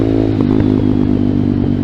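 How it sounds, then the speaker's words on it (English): A Vader ZS190 Honda Grom clone motorcycle runs with a loud, annoying exhaust, a close, steady low-pitched engine drone with rapid pulsing firing beats and no talk. "I definitely gotta get a different exhaust for this thing. It's kind of loud to the point where it's annoying."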